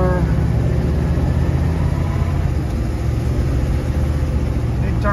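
A newly fitted engine in a 35-year-old RV idles steadily, a continuous low rumble with a faint hum that stays even throughout, with no talk over it.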